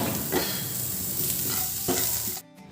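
Onions with turmeric and salt sautéing in a pan for alasande usli, a steady close sizzle with stirring scrapes that cuts off abruptly near the end.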